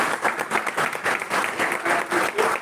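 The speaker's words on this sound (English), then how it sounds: "we should clap for this top 5 finalists for their activity." An audience at a national-level oratory contest final claps for the top five finalists, producing steady, dense applause at moderate level throughout.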